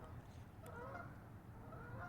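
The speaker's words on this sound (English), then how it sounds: "There go the geese." Geese honking faintly in the distance outdoors, a few scattered calls over a low steady background hum, with no speech.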